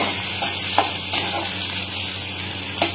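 Onions frying in a pan, cooked until golden for a summer dry vegetable dish: a steady close sizzle with a few sharp stirring scrapes and clicks spread through, no talking.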